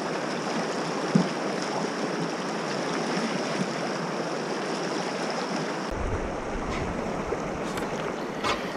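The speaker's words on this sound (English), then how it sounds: "the river widened and got even faster flowing" Fast-flowing river at Gordale Scar in the Yorkshire Dales, a steady broadband rush of water heard close and continuous, with a faint low rumble joining partway through and no talk.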